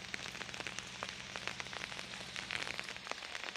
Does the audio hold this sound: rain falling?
yes